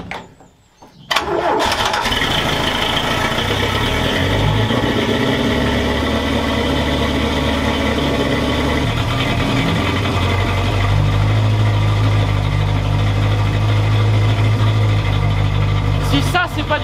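A car engine fed by two original carburettors catches quickly after a brief crank and settles into a loud, steady idle that runs on alone for the rest of the moment.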